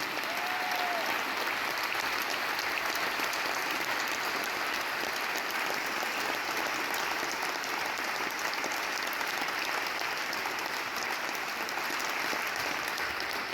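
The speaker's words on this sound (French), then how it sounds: "on peut lui faire un tonnerre d'applaudissements" A concert audience gives a long, steady round of applause for a musician being introduced on stage in Besançon, dense clapping sustained throughout without letting up.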